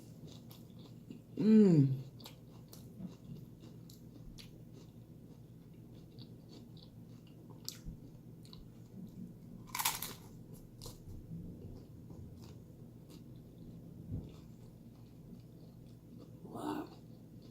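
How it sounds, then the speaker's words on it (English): Someone bites into and chews chicken waffle tacos close to the mic, making soft, intermittent crunching and munching over a quiet room, with a brief appreciative hum near the start. "I have to have another bite"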